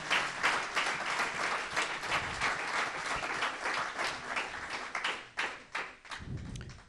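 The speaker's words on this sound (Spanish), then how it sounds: "por esto démosle un aplauso" A church congregation claps together during a Sunday service, a dense, fairly loud round of applause with sharp individual claps standing out, thinning into a few scattered beats near the end.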